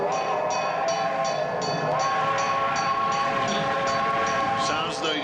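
A toy train set running, a steady rolling rumble with repeated rhythmic clicks and a sustained whistle-like tone that rises near the end, fairly close and continuous.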